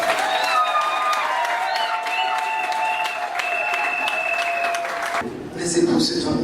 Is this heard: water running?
no